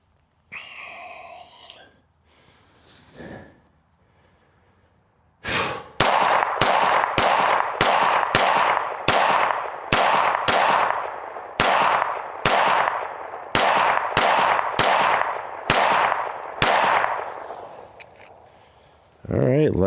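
A Smith & Wesson M&P M2.0 pistol fitted with a Performance Center slide fires about fifteen loud, sharp shots in a steady, evenly spaced string after some quiet whispering at the start.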